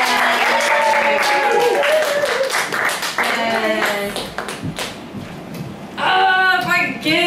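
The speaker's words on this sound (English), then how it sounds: "Please give a nice warm round of applause to Emily Kirk" A comedy club audience at the TAO Comedy Studio claps and cheers a comedian making her debut, with steady, full-room applause that dips slightly before swelling again near the end, where voices rise over it.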